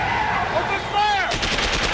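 Rapid automatic gunfire in a science-fiction TV scene erupts after a shouted order, a loud dense burst of repeated shots following a brief voice and rising tones.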